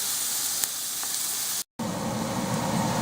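Onions sweating in a pan for a cream of butternut squash sizzle with a steady, close hiss, broken by one brief silent gap before the frying continues, with no talking.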